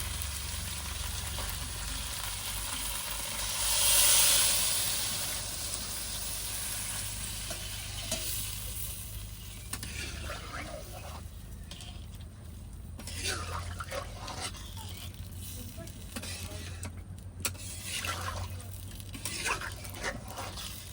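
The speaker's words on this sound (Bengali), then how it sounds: "এখন দিয়ে দেবো ঝোলের জন্য জল" Water poured into sautéed duck meat in a pan for a duck curry, a loud hissing swell of sizzle early on that settles into steady bubbling frying, with a voice speaking over it.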